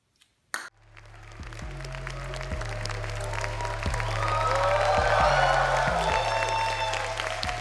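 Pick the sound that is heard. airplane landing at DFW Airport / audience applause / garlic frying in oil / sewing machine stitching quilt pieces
audience applause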